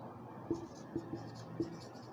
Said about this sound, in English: Then I will write the property here.